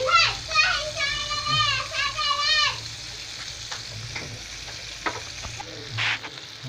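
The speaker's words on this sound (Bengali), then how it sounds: "দেখুন আমি লাল করে ভেজে নিচ্ছি" A flour-based snack fries in oil until reddish-golden, giving a loud, close, crackling sizzle that runs the whole time, with a voice chattering over it at first.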